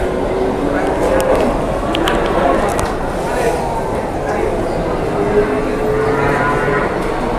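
A jumbo sacrificial cow of over 800 kg, held at a cattle farm, moos amid steady noisy background chatter and farm ambience, with the call not standing clearly apart from people talking throughout.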